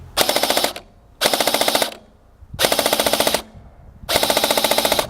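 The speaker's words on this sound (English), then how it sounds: "We must turn it forward and the gun is ready to operate." An LCT PKP Pecheneg airsoft electric machine gun fires four loud, close full-auto bursts. Each burst lasts under a second and has a rapid, even mechanical rattle, with short pauses between them.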